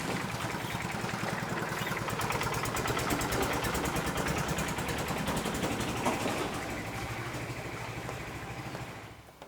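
A vehicle engine drives past on a road on Peng Chau Island, Hong Kong, a steady mid-pitched rumble that holds loud and close for several seconds before tailing away at the end.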